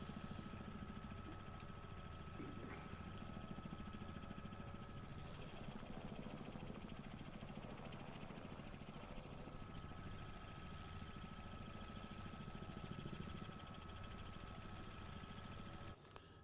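A helicopter engine drones steadily in Microsoft Flight Simulator 2024, a continuous rotor and turbine hum with no breaks, moderately loud and alone for the whole stretch.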